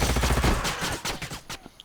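Units in the strategy game Age of Wonders: Planetfall open fire on an enemy, a loud, dense burst of rapid overlapping shots for over a second, then thinning into a few scattered cracks with a faint tonal chime at the end.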